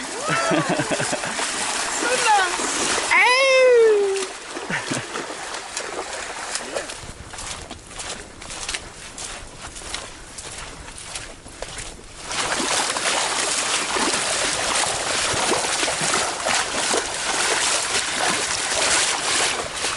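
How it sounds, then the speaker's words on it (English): Splashing water from feet wading through a stream on the Ocean to Lake Trail, with a steady rushing wash, brief whistling chirps early on, and voices talking nearby. "we've been walking in the water for probably about 3/10 of a mile, off and on."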